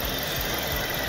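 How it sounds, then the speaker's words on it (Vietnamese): A Kia Cerato 2.0 Premium 2020 engine idling, a steady low, even hum with a faint pulsing rhythm, held close and alone with no voices. "Động cơ này chúng tôi đang nổ đấy quý vị bạn nhé"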